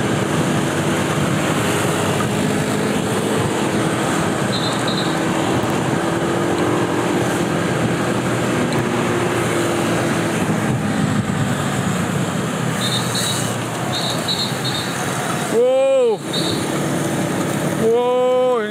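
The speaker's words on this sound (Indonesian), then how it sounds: "Wow, ini ada motor yang sangat ramai sekali" Many motorbikes race toward the finish of a road race, a dense continuous engine roar under a live commentator's voice, with two loud bikes whizzing close past near the end.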